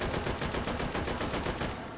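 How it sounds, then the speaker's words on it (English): Tommy gun hip-fired in H3VR, a virtual-reality shooting game, in a dense, unbroken burst of rapid automatic fire with evenly spaced shots running the full length, loud and close with no talk. "Let the Tommy gun do the talking."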